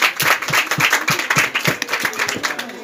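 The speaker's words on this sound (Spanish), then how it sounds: "Fuerte el aplauso para él." Close, rhythmic clapping from an audience cheering on a dancer at a comedy dance show, loud, distinct claps in a quick, fairly even beat.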